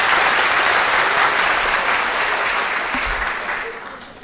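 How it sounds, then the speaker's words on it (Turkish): An audience at an academic panel on Taşköprülüzâde Ahmed Efendi gives sustained applause for students, a thick, even wash of clapping that gradually softens toward the end. "Alkışlıyorum"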